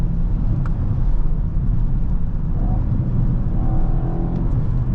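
Audi RS6 C8 engine on a damp autobahn, a steady low rumble and road roar at speed as the gearbox downshifts, loud and continuous with no talking.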